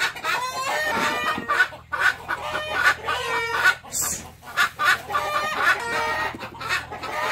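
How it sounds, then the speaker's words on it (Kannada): Hens on a goat and sheep farm cackle loudly and repeatedly close by in rhythmic bursts, with other fowl clucking and calling in the background. "ಅವು ಮೊಟ್ಟೆ ಇಡ್ಬೇಕಾದ್ರೆ ಒಂದು ಕೋಳಿ ಸೌಂಡ್ ಮಾಡುತ್ತೆ"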